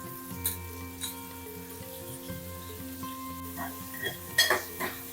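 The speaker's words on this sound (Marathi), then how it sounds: "कांदा तेलात परतून घ्या" Chopped onion fries in two spoons of hot oil in a small pot, giving a soft, close sizzle with occasional clinks and scrapes of stirring and a faint steady hum behind it.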